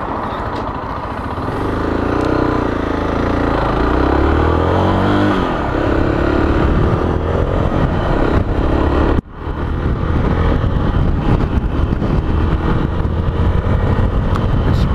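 A Zontes ZT310X motorcycle ridden at cruising speed, a loud steady engine drone with wind rush, holding an even pitch with one brief dip midway.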